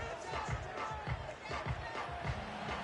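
Big crowd at an American football game at Wembley, a dense roar of many voices with rhythmic swells and cheering, loud and continuous throughout.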